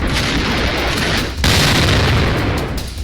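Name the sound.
explosion blast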